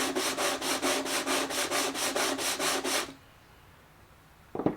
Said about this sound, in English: gently sanding that face on a flat surface